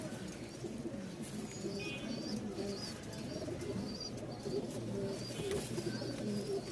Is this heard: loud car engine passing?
no